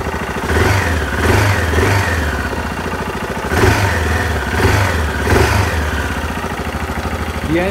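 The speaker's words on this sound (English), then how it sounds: "The engine works in a good way, the sound is clean and regular" A Yamaha XT 600 Ténéré 1VJ single-cylinder engine runs close and loud, with a repeated pattern of revs rising and falling over a steady thumping idle.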